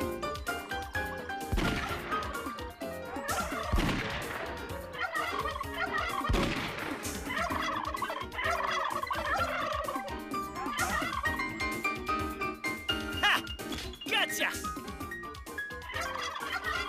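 Cartoon turkey gobbling in an animated Pink Panther episode from 1993, a busy stretch of repeated gobbles mixed with slapstick smashes and whacks over lively background music, loud and continuous throughout.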